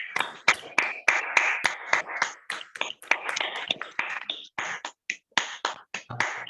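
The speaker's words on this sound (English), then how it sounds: "please give them a loud round of applause" Participants in an online Toastmasters club meeting clap with their microphones unmuted, producing a ragged series of sharp, separate claps, close and uneven in rhythm, with overlapping hands from several people.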